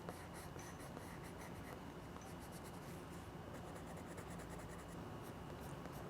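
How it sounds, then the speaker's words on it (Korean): Orange pencil colouring the belly feathers of a bird sketch, a faint continuous scratchy stroking on paper, close and quiet with no talk. "이 부분부터 한번 오렌지 컬러를 칠해 볼게요."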